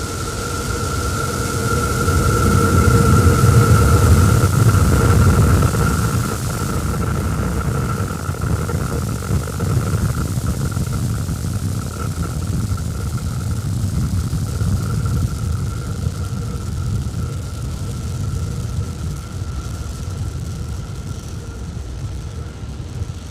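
SpaceX Starship test vehicle SN11 climbing over Starbase in South Texas: a loud, continuous broadband rocket roar with deep rumbling, strongest in the first seconds and then holding steady for the whole stretch.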